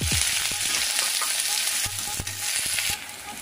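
Onions fry in hot oil in a kadai with a steady, dense sizzle throughout, broken by several close metallic clinks and scrapes of a spoon stirring against the pan.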